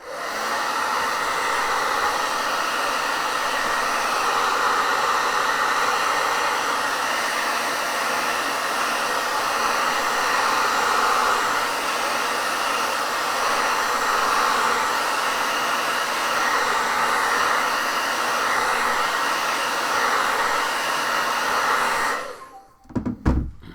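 A heat tool blows a steady, loud stream of air across the back of an artwork to flatten it, running continuously for about twenty-two seconds before cutting off with a couple of light thumps.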